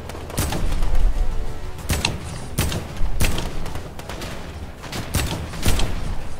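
Gunshots in the Fortnite video game, a string of about ten loud, sharp cracks at uneven intervals across six seconds, close and clear with little else underneath.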